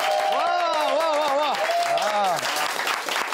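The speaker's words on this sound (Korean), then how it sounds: "박수 한번 칩시다." Dense crowd applause fills a TV talent show studio while a voice speaks loudly over it, the clapping continuing steadily throughout.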